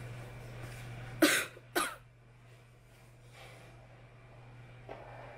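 Two sharp, close coughs in quick succession, followed by quiet breathing and a faint hum in the background.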